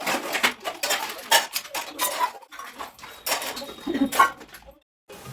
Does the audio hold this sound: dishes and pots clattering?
yes